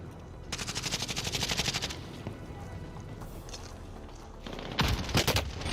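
Submachine gun fire in a video game comes in two rapid, rattling bursts, a longer one early on and a shorter, louder one near the end, separated by quieter background game noise.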